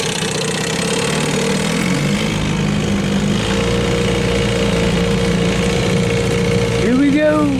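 A 1968 6 hp Evinrude outboard motor runs steadily nearby, a constant chugging drone with a rapid knock-like pulse, with a brief voice near the end.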